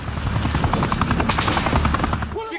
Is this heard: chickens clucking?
no